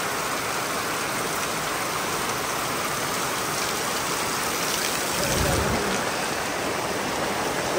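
Rain pouring steadily during a roadside stop on a motorcycle ride in Negros, a dense, even hiss of drops on surfaces with a brief heavier swell midway.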